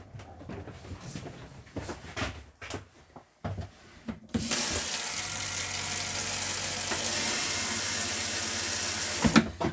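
Water from a tap in an FC Sprite Major 4SB motorhome, just bled of air, begins with a few sputtering bursts and clunks, then runs in a steady close hiss before cutting off.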